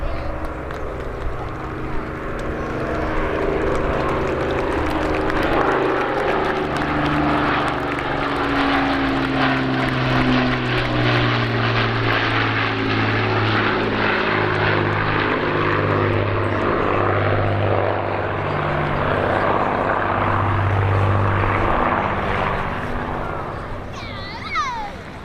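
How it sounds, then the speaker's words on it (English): An Avro Lancaster bomber of the Battle of Britain Flight at the Old Buckenham Airshow 2025 gives a loud, sustained piston-propeller roar that swells and holds close overhead for the whole stretch, then eases slightly at the end. "Ladies and gentlemen, Battle of Britain Flight Lancaster."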